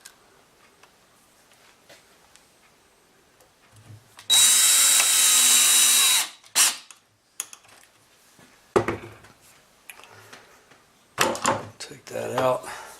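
A power drill with a Kreg jig drives 1 1/4 inch coarse screws into 3/4 inch wood stock for a shop screw rack, one loud two-second whir, then clunks, handling noises and a shorter burst near the end.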